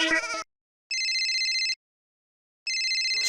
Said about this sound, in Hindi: सेठ धनराज सिंघानिया जी का फोन